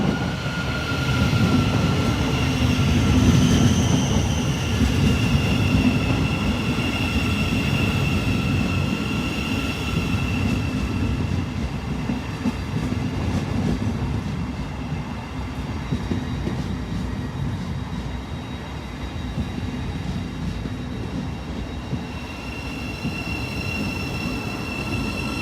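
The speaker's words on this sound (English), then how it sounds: "LNER service from Leeds to London King's Cross, 800 105." An LNER Class 800 Azuma unit, number 800 105, on a Leeds to London King's Cross service passes close by, giving a steady loud rumble with wheel squeal and a faint high whine that fade slightly over about 25 seconds, with no talking.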